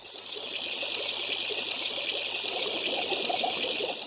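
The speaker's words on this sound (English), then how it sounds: "the cat fell in a river, so Samir hurried and saved him" A river stream runs and trickles in a steady bright wash of flowing water, continuous and close, with no splash standing out.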